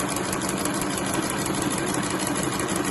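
A Rex 607z sewing machine stitches through four layers of fabric in a steady, continuous mechanical hum with a fast rhythmic chatter, close and alone.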